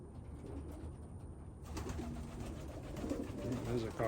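Racing pigeons coo inside their loft in a steady run of soft, low, throaty calls that overlap close by against a faint hum.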